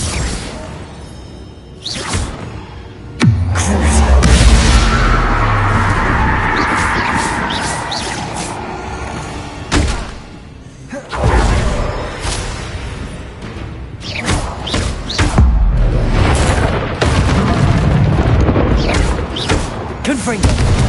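Confringo fire-blast spells cast in Hogwarts Legacy on PS5, giving several loud booms and whooshing bursts spread across the stretch, interleaved with game sounds and a voice.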